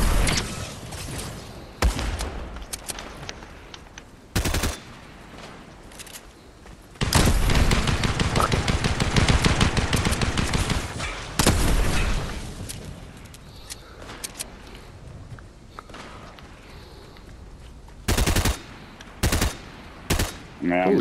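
Bursts of automatic gunfire from a video game shootout come in short volleys and one long sustained stretch, loud and close, with gaps of quiet between them.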